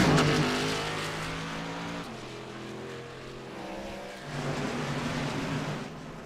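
A 23 Mustang race car with heavy front-end damage rolls off pit road at Dover; a steady engine drone holds throughout, with pitch steps and a slight swell near the end.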